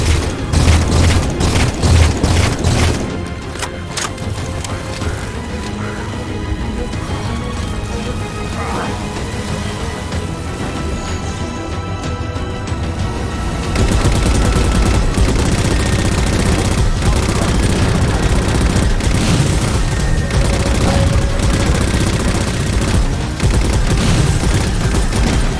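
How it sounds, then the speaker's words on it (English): Railgun fire and explosions from the Halo 4 video game: a dense, loud barrage of booming blasts and rapid gunfire that continues without a break, with voice lines partly buried in the din. "Target those phantoms for the railgun to shoot down."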